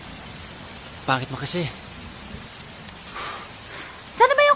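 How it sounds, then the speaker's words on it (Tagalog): Steady rain falling outdoors, a continuous wash of patter with no distinct drops standing out, heard under brief bursts of speech from people in the scene. "Paulan-ulan pa kasi."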